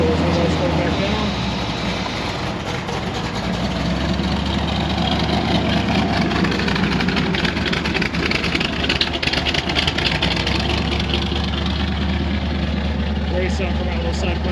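A 1969 Chevrolet Corvette convertible with a 4-speed runs through its side pipes in a continuous, loud, rumbling idle, with a person talking over the engine.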